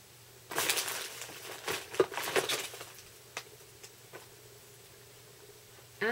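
Cardboard package being opened with scissors, a cluster of crinkling, snipping and rustling bursts early on, then sparse quieter taps and a final rustle, close and fairly faint.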